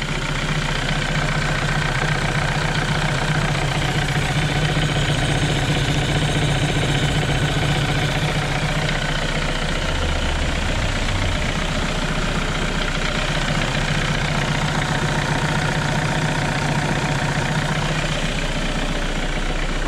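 A diesel car engine idles after decarbonising, running smooth and even without knocking, a loud steady rumble throughout with no voices.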